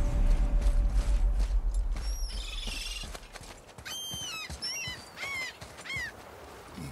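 An axle mechanism is heaved upward and shifted in the God of War video game, giving a heavy low grinding rumble for a few seconds, then lighter creaks and squeaky, whistling strains as it settles. No one speaks.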